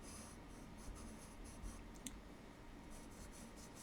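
A white chalk pencil drawing on paper, a faint, steady scratchy rubbing of strokes with one brief sharper tap, very quiet and close, with no talking.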